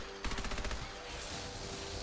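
Rapid burst of automatic gunfire from a shoulder-mounted machine gun in Fallout 4, about ten sharp shots in quick succession, followed by a dense lingering rumble of combat noise.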